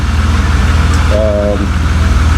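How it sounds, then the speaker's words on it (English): A BMW E36 engine idling up close, a steady low rumbling throb with a brief higher tone riding over it midway. "E36 is currently idling up."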